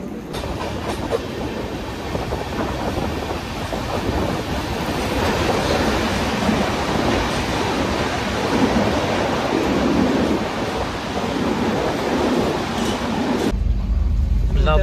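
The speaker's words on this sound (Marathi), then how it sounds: "चला गाडी निघाली" Mandovi Express passenger train running on the Konkan railway in monsoon, a steady loud rumble of wheels and carriage noise throughout, with a sudden shift to a deeper, muffled roar near the end.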